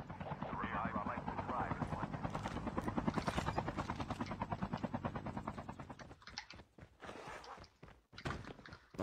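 Helicopter rotor chop from a video game, a steady loud rhythmic thumping through most of the stretch that breaks up near the end, with game sounds and talk over it.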